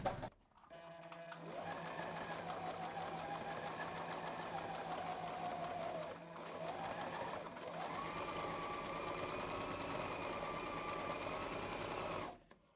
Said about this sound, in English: hold both the threads together and start sewing. I'm using straight stitch.